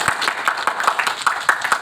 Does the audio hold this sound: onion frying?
no